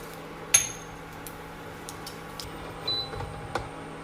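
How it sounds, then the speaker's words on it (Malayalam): Mustard seeds crackle in hot ghee and coconut oil, giving a few sharp, scattered pops over a quiet low hiss, one louder pop near the start. "കടുക് പൊട്ടിയിട്ടുണ്ട്."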